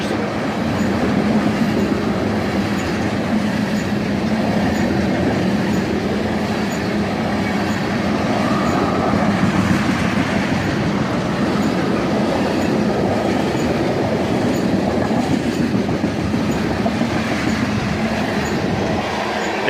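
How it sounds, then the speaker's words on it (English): A long BNSF unit freight train of tanker cars rolls past at dusk, a steady loud rumble of wheels and wagons with faint clickety-clack running unbroken throughout, no voices. "One long unit train of tankers."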